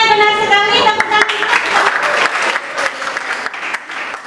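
Classroom applause breaks out suddenly and holds as a dense burst of many hands clapping close by, with a voice over the start and then fading slightly.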